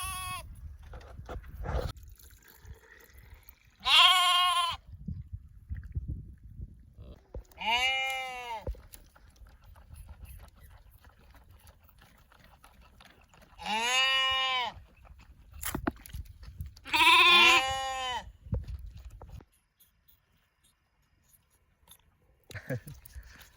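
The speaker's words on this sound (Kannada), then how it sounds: "ಕುರಿಗೆ ಹಾಲು ಕುಡ್ಸಕ್ಕೆ ಬಂದೆ. ಒಂದು 3-4 ಮರಿ ಅದಾವ ರೀ." Young sheep lambs bleating while being fed milk, several loud close drawn-out bleats in separate bursts with quiet gaps, soft chewing and rustling between them.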